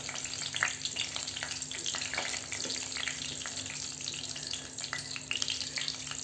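Cumin, black and green cardamom, a cinnamon piece and bay leaves fry in hot oil over a low gas flame, making a close, continuous crackling sizzle with scattered sharp pops and occasional stirring.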